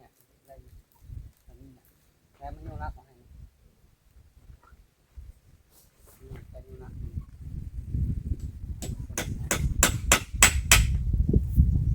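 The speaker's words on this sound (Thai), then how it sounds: "ตอกแล้วเลยเนาะ" Hammer blows ring out in a rapid series of sharp, loud strikes while a thatched hut is extended with two new posts, over rustling outdoor activity, after earlier brief talk.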